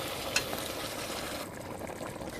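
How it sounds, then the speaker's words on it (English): Meat sautéing and caramelising in a pot for Bajan pelau rice, a steady soft sizzle and crackle throughout with a brief sharp tick near the start, close and moderately quiet, no voices. "I will let it saute there and caramel, and let my meat caramel as well in there."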